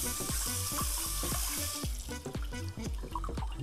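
Tap water runs steadily into a sink while raw chicken is rinsed, with irregular splashing and low thumping knocks throughout.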